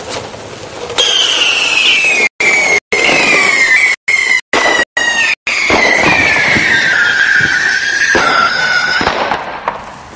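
Bottle rockets firing in a burst from rocket skates, a loud whistling shriek sliding slowly downward for several seconds, punctuated by sharp abrupt cutoffs, close and piercing with no talk.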